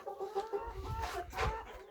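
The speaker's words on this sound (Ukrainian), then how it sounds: "Курочки зараз випущу." Hens in their coop cluck softly in short, uneven bursts, close by, with faint rustling in the background.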